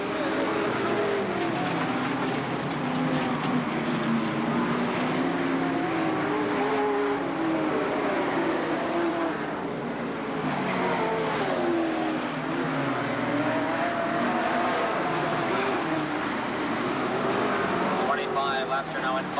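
Sportsman-class stock cars roar around a short track in a 1990 feature race, a steady engine drone rising and falling as the cars pass, heard continuously beneath a race announcer's commentary.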